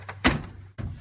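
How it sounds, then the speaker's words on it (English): A truck bed cap door pulled down and shut at camp, landing as a loud, close thunk with a brief rattle, followed by a second softer thud just under a second later. "just pull the tail, close it up, pull the cap door down"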